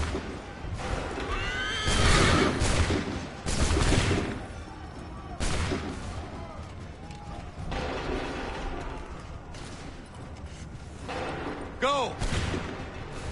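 Volleys of musket gunfire in Assassin's Creed 3, with several loud bursts spread through a battle scene. Horses whinny, other clamour sits in the background, and a few shouted voices come through.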